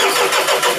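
A Sonalika 42 DI tractor's diesel engine cranks and fires, a loud, steady broadband engine rumble with slight pulsing throughout the short stretch, heard up close with no voices.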